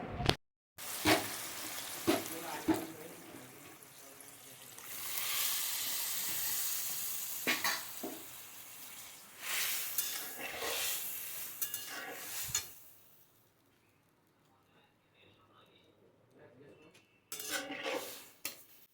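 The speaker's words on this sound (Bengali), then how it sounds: "মশলাটা কষিয়ে যখন খুব সুন্দর একটা গন্ধ বেরিয়েছে বন্ধুরা তখন আমি এর মধ্যে দিয়ে নিচ্ছি আগে থেকে সেদ্ধ করে রাখার ডালটা" Boiled dal with turmeric and salt is tipped into fried spices in a pot, with a loud pour and sizzle, scraping and clinking of a utensil, and a stretch of quieter simmering before more stirring.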